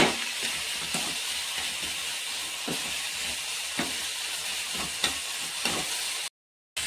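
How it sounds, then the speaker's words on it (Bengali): Grated coconut is stirred in a hot pan, a soft steady sizzle with faint scraping spatula strokes, quiet and close, before a brief silent cut near the end. "নারকেল কুড়ো দিয়ে ভালো করে নেড়ে নেব"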